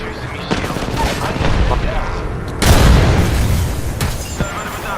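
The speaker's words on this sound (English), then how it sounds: "He's shooting at me" Video game gunfire in rapid bursts and heavy booms, loud and dense, with a voice talking over the shooting.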